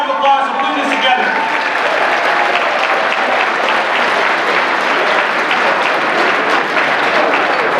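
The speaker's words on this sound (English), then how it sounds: "let's give our organizers and our staff, our party staff, a round of applause for putting this together" A dinner crowd at a Nevada Democratic Party event applauds the organizers and party staff with steady, dense clapping that fills the room from start to finish and sounds loud and close.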